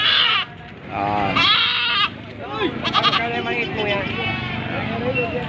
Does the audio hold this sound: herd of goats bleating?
yes